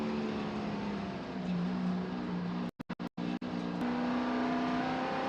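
Spec Corvette race cars running nose to tail at Buttonwillow Raceway Park, a loud sustained V8 engine roar with shifting pitch as the pack passes, broken by a few brief dropouts.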